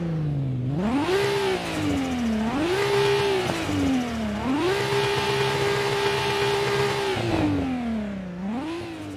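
A car engine in the Assetto Corsa driving game revs repeatedly, rising and falling in pitch through gear changes and sustained high-rpm pulls, loud and continuous with no talking.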